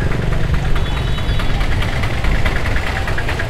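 A motorcycle engine idles steadily at close range after starting, with a continuous low rumbling throb and a faint ticking pulse in the background near a vegetable market.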